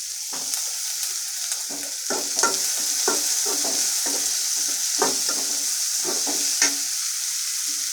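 Green chillies frying in oil for a crab gravy, a bright continuous sizzle punctuated by repeated close scrapes and knocks of a spoon stirring the pan, with no talking.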